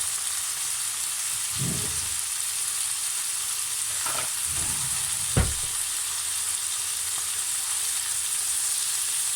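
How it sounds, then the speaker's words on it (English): Bacon being flipped in a pan gives a steady background sizzle and hiss with a few brief scraping clatters; nobody speaks. "let's give this bacon a wee flip"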